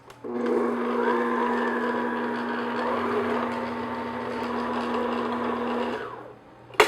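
Choux pastry dough for profiteroles being beaten by an electric mixer: a steady, loud motor whir with a constant hum that runs for about six seconds, then cuts off, with no talking.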